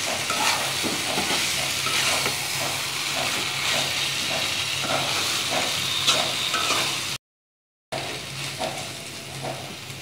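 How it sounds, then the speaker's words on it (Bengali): Pumpkin and vegetables are stirred in hot oil in a pan over a medium-low flame, with a steady sizzle and hiss and repeated scraping strokes, briefly cut by a short silent gap. "সবজিগুলো দিয়ে দিয়েছি। এবার আমি ভালোভাবে তেলের সঙ্গে মিশিয়ে নেব।"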